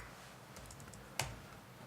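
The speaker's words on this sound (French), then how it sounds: "j'aime pas ce clavier" A few sparse keystrokes on a computer keyboard with a soft quiet background, punctuated by one sharper, louder click near the end.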